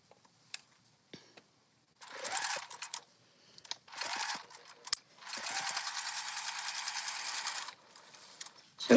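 A sewing machine top stitches fabric in short bursts of rapid, buzzing stitching, followed by a longer steady run of about two and a half seconds, with near silence between bursts.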